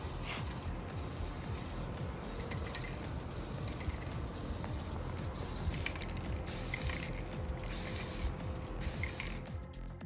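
Spray paint is applied to Warhammer 40k Salamander Space Marine miniatures in Warp Lightning green, a close, steady hiss broken by regular brief pauses between bursts.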